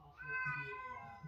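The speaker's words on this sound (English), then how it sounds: "I'm sorry if you hear that whining cat outside the room." A single drawn-out, whiny meow from a cat outside the room, faint and slightly distant, lasting just over a second.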